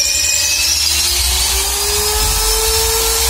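Power drill boring into wood on a building frame, a steady loud whining whir with a slowly rising tone that runs continuously and alone, no voices.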